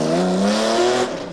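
A supercharged six-cylinder Acura NSX race car from the 2002 Speed World Challenge GT runs loud and close with a steady, buzzing engine note that holds briefly before easing off slightly.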